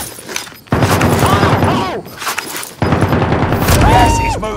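Rapid bursts of gunfire in a Warzone match come in two loud dense stretches with a short lull between them, and excited voices shout over the shooting.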